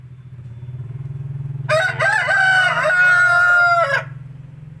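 A red rooster crows once, loud and close, a long ringing call of about two seconds over a steady low hum, with no voices.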